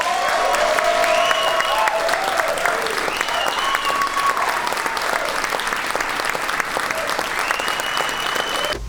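A studio audience applauds after a session by a band, with steady, loud clapping sustained throughout and a few faint whoops mixed in.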